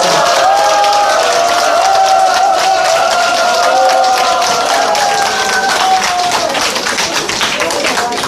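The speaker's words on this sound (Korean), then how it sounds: "여러분 힘찬 박수 부탁드리겠습니다." Crowd at a political candidacy declaration event applauding and cheering a candidate's entrance, a steady loud wash of clapping and cheers with background music and voices throughout.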